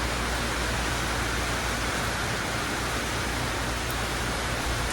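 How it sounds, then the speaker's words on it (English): Heavy rain pours down outside a house at a residential complex on a rainy afternoon, a dense, steady roar of falling water with no breaks, fairly close and loud throughout. "So the rain is very heavy."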